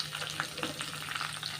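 Green chillies and curry leaves fry in hot oil with a quiet, steady crackle and small popping sizzles, close and alone.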